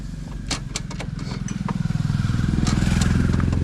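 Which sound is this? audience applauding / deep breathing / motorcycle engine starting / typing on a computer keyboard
motorcycle engine starting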